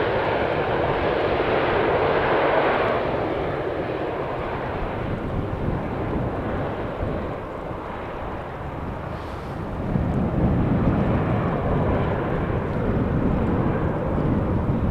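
A loud KLM Boeing 737 landing at Amsterdam Schiphol Airport on a windy day, its broad engine roar sustained and close, with wind buffeting the microphone throughout.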